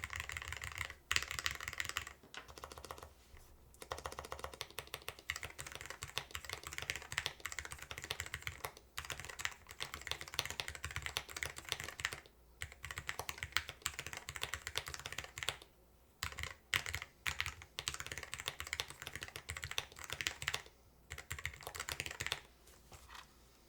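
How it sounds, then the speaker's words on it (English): Continuous typing on a low-profile split wireless keyboard, fast clicky keystrokes in bursts with short pauses, close and fairly quiet, no talking. "I'll do a few different styles of typing test here."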